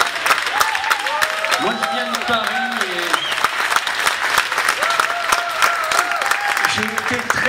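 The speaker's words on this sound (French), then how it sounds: "Applaudissons Odile Quéret" An audience applauds for several seconds at a Monaco gathering, with someone talking over the clapping.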